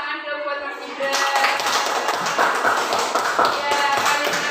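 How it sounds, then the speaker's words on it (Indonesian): A class of students clapping for a classmate, a burst of close, dense applause that starts suddenly and continues steadily for several seconds, with voices mixed in. "Kasih tepuk tangan dong buat Mas Gibran."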